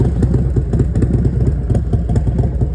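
A motorcycle engine runs close by at Southend-on-Sea beach, UK, with a fast, steady pulsing putter, slightly revving throughout.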